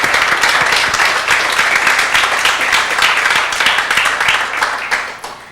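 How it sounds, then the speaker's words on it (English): A crowd applauds steadily, dense clapping sustained for several seconds before tapering off at the end. "So really a big round of applause for Jordan for even putting the whole library idea together."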